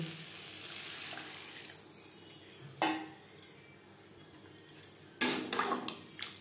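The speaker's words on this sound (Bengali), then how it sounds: "দিয়ে দেব জল" Water poured into a pan of spice-coated potatoes for a Bengali fish curry, a soft watery rush with clinks of utensil against pan, close and fairly quiet.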